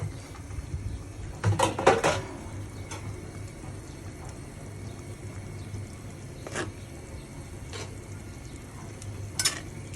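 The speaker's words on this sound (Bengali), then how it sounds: "এখন আমি মাছগুলো দিয়ে দেব মটরশুঁটি দিয়ে" Fried fish pieces go into a simmering pea curry and are stirred: a quiet bubbling bed with a few soft knocks and scrapes of a spoon against the pot, one cluster early and scattered single taps later.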